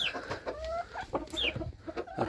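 A hen clucks repeatedly at close range in a farmyard, giving short irregular calls with a few rising squawks and no talking.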